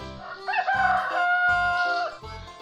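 A rooster crows once, a loud, close, drawn-out cock-a-doodle-doo lasting about two seconds, heard alone with no talk.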